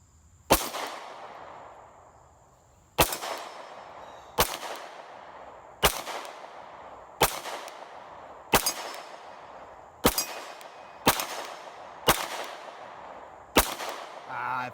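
A CZ P-07 pistol fires eleven sharp, evenly spaced shots at a steel target, each crack followed by a ringing metallic clang that decays before the next.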